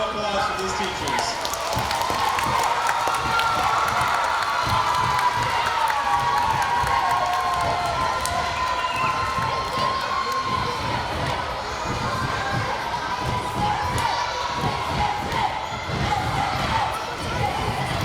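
A school audience applauds and cheers for teachers at an elementary awards ceremony, with steady, dense clapping and children's shouts continuing throughout.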